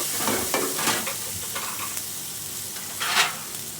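Spice masala with chili powder fries in a pan before prawns go in, a continuous close sizzle broken by several brisk stirring scrapes and one louder hiss burst toward the end.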